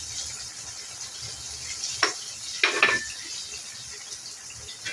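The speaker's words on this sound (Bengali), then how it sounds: "ভালো করে নেড়ে নেব।" Chicken being stirred with salt and soy sauce in a pan for chicken fry, giving a couple of short clanks and scrapes of a utensil against the pan around the middle, over a faint steady background hiss.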